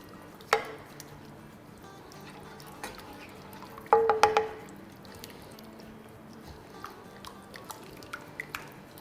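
Milk powder being stirred into melted ghee in a kadhai gives soft scraping and wet squishing, with a few sharper clinks of the spoon against the pan near the start and middle, close and fairly quiet.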